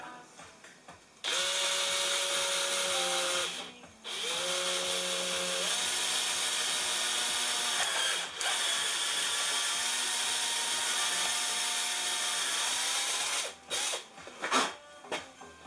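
A power drill with a 4mm bit whines steadily at close range, pausing briefly a few times and changing pitch as it bites through aluminium, ending with short bursts.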